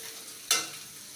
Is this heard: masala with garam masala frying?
yes